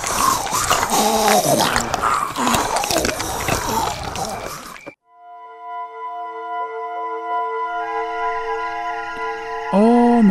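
A dog growls in a 3D horror animation, a rough, loud rumbling snarl lasting about five seconds before cutting off to near silence, followed by quiet sustained musical tones.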